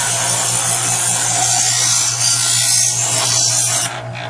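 Steady, loud grinding hum of a Chef'sChoice 120 Diamond Hone EdgeSelect electric sharpener as a knife blade is drawn through its slot, continuous for several seconds before easing off at the end.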